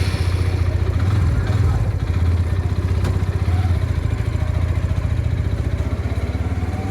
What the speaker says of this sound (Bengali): তো বাইকটা স্টার্ট করি।